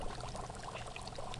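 Dry ice mixture for a homemade comet bubbling and fizzing as it sublimates, a steady faint hiss and crackle like pouring or trickling water, with no speech.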